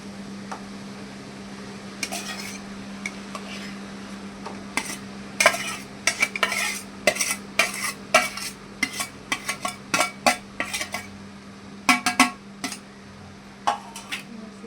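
Indrayani rice being stirred and roasted in a metal pan for pulav, with irregular scraping and clinking strokes of a spoon against the pan over a steady low hum, close and moderately loud, no talking.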